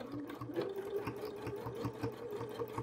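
A Janome sewing machine runs fast and steadily during free motion sewing, a continuous close whirring hum with a quick pulsing needle rhythm at low volume.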